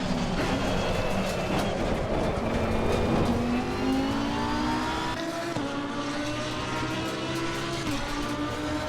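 Race car engine in the racing game Assetto Corsa, a continuous mid-level drone rising in pitch as it accelerates through gears, with a shift and renewed climb partway through.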